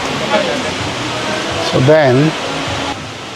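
A waterfall in the Philippines roars as a steady, broad rushing wash that fills the whole scene, with a person talking briefly over it up close.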